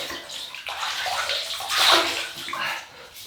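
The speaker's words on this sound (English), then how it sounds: "what I'm going to do is rinse the face. I'll use this water" Water splashes and sloshes steadily as a face is rinsed before a wet shave, a close, continuous wash of water with a brief louder surge midway and no talking.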